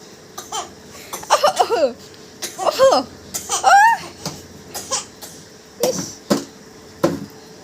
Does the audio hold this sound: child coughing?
yes